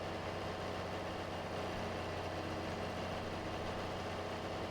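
John Deere 4020 tractor engine in the Farming Simulator video game, idling with a steady low drone that holds unchanged from start to finish.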